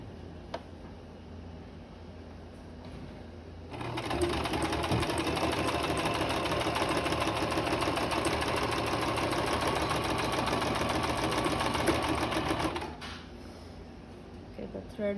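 A sewing machine stitches the seams of a fabric mask in one steady, loud mechanical run of several seconds, with quieter handling sounds before and after.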